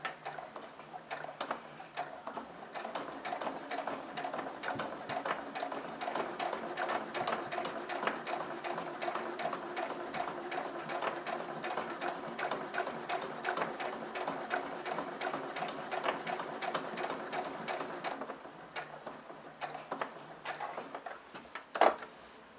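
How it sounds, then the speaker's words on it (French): A sewing machine stitches fabric at slow speed around a visible seam, a fast, even mechanical ticking close by, pausing briefly near the end with one sharp click. "je plante l'aiguille, je lève le pied, je tourne mes tissus et je repars pour ma couture"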